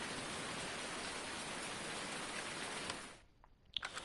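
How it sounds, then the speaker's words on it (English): Steady hiss of rainfall in the farming game Farming Simulator 19, a dense even downpour that cuts out near the end, leaving a brief near-silence and a couple of faint clicks. "I don't even know how long it's supposed to be raining."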